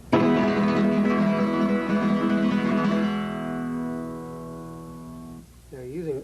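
A flamenco guitar triplet rasgueado played up to speed: a dense, loud burst of rapid strumming that rings out into a sustained decaying chord, followed by a brief voice near the end.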